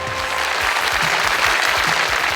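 An audience at a televised show in Chuadanga claps for a contest winner, a dense, loud, sustained burst of applause from many hands, close and continuous throughout.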